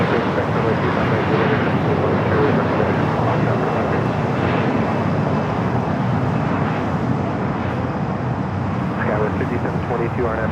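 An airplane roaring at Los Angeles LAX airport, a loud, continuous broad rumble of jet engine noise holding steady throughout, with faint radio-like voices mixed in.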